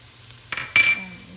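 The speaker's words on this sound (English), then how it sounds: "I'm going to add in the chopped onions and the crushed or shredded fresh ginger and garlic" Chopped onions, ginger and garlic tipped into a hot pan: a brief clatter, then a short, close burst of sizzling that quickly fades, with no voices.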